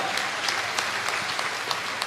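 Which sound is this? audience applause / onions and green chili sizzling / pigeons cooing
audience applause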